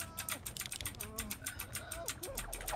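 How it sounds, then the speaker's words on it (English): Computer keyboard keys clack in quick, irregular bursts close by during a Dead by Daylight gaming session, with game sounds and chatter mixed in underneath. "is my keyboard loud when I do this?"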